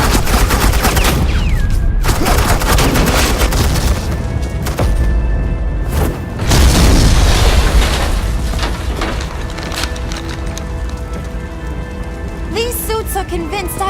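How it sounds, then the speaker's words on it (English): Sustained automatic gunfire rattles loudly through a scene in Batman: The Enemy Within, a dense crackling fusillade that persists nearly throughout, with brief spoken lines mixed in underneath. "suppressing fire."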